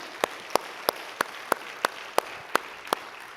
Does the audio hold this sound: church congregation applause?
yes